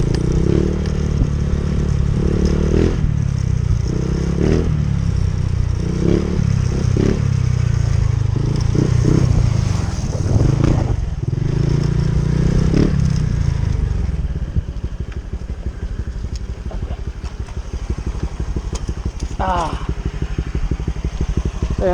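Honda Click 125i scooter fitted with an EXOS X6 aftermarket exhaust pipe, a steady close engine rumble with a deep low burble running throughout, a few clattering knocks and revs, and a voice talking over parts of it.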